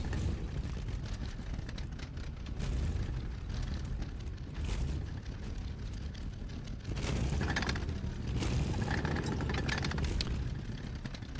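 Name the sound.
tank shells exploding against a rock, from a video game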